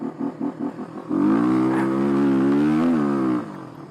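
A Kawasaki KLX 250 dual sport motorcycle fitted with a new carburetor puts out a few short blips, then holds a loud, steady rev for about two seconds before dropping back, recorded close up with nobody talking.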